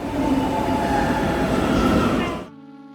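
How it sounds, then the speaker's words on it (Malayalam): A metro train pulls into a station in Kochi with a loud, close roar of wheels and motors, then cuts off abruptly, leaving a steady electrical hum. "അപ്പോൾ നമ്മൾ മെട്രോ വരാൻ വേണ്ടി വെയിറ്റ് ചെയ്യാണ്."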